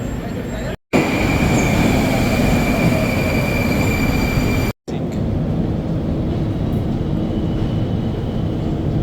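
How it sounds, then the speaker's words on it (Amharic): A Moscow metro train runs with a loud, dense roar and high steady whine, broken by two short dropouts, then continues as a slightly quieter rumble with faint squealing tones. "ሜትሮ ውስጥ ነው ያለነው"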